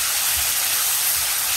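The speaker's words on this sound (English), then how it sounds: "I'm gonna let it fry a little until the tomato got a bit dry." Tomato frying in a pan for a Guyanese-style corned beef and rice dish, a steady close sizzling hiss with no talking.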